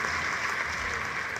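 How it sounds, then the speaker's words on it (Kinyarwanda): An audience at a large women's gathering in Rwanda claps in a dense, steady burst of applause, fairly soft and even, heard on its own without talk. "Ushatse wakoma amashyi n'igihe umuturage."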